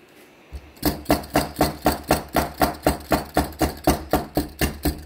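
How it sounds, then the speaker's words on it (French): A glass jar packed with yellow cherries for preserving is tapped against a surface about fifteen times in a steady rhythm, each knock sharp and close, with no talk. "dès que je vais taper le bocal, elles vont se tasser"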